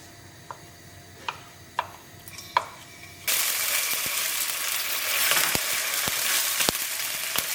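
A few sharp ticks and taps ring out near a pan before ginger garlic paste and green chilies hit hot oil, bursting into a loud, steady sizzle with occasional crackles that lasts to the end, with no voices.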